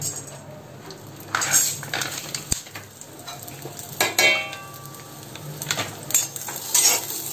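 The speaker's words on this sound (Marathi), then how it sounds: "आता परत थोडंसं मी तेल घालणार आहे. लवंगा टाकणार आहे." Cloves roasting in a little oil over very low heat for Malvani roasted masala, a faint steady sizzle with repeated spoon-on-pan scrapes and clinks, close and without talk.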